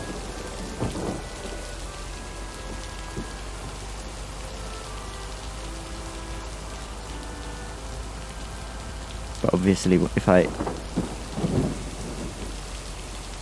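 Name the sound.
thunderstorm with rain in a video game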